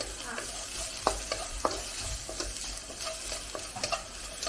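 Chopped onions fry in an oiled pan for a chicken curry, a continuous close sizzle broken by several sharp scraping stirs and clinks of a spoon against the pan, with no talking.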